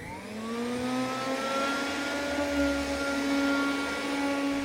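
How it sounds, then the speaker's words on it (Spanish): A vacuum cleaner whirs up to speed, its motor pitch climbing and then holding as a loud, steady drone, with no voices. "Es una aspiradora"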